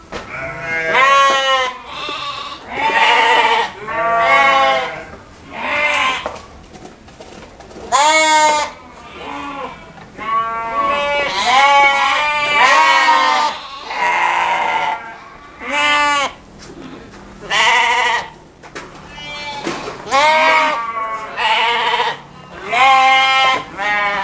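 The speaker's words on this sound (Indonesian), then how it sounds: "Domba ini hasil dari silangan Garut dengan domba Dorper" Garut and Dorper crossbred sheep bleat repeatedly, many loud overlapping calls from a flock close by, with brief pauses between bursts and no talk.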